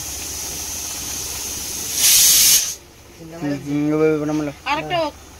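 A pressure cooker lets out a short, loud burst of hissing steam from its whistle, and then people start talking close by.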